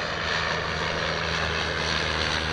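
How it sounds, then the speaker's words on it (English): Steady, loud engine drone of an airplane passing over Olympic National Forest near Wynoochee Falls, a continuous broadband roar with a low hum that holds evenly throughout, no voices. "Friggin' planes."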